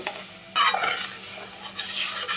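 A spoon stirs amra (hog plum) chutney in a pan with soaked mango leather and milk added. The close, soft scraping and light sizzle comes in two bursts over a quiet simmer, with no talking.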